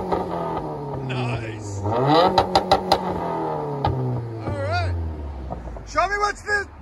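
A Subaru WRX turbo with its muffler deleted revs near at hand, rising and falling engine tones with a few sharp throttle blips, while people talk over it.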